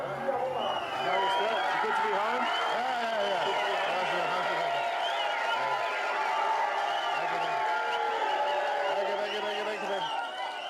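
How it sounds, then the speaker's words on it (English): Crowd at an election rally in Tari, Papua New Guinea, a steady, dense wash of many voices calling and whooping at moderate distance, with a voice talking over it throughout. "But today, the crowd is in good spirits."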